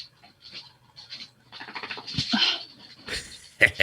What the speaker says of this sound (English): Now the dog's making noise.